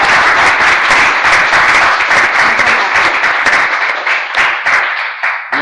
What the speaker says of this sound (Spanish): un rendido aplauso a Carolina González